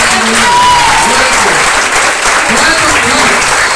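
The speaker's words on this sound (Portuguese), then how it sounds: "Então dá uma salva de palmas bem forte para o Senhor" A church congregation claps loudly and steadily in praise, a thick continuous roar of many hands with a faint voice threaded through it.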